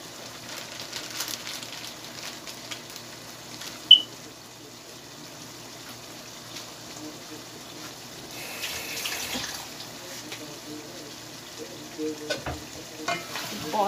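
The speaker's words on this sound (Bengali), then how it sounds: "তরকারিটা কষা হোক" A curry of rohu fish with pointed gourd being stirred and fried in a pan, giving a steady low sizzle with scraping stirs and a sharp clink, fairly faint and continuous with no talking.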